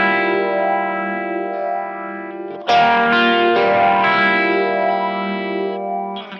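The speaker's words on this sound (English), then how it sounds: "I take the normal phaser, and this is very intense." An electric guitar through a Kemper Profiler sustains a held note, then a fresh strike rings out with an intense one-way phaser effect that sweeps and shifts the tone as it slowly fades.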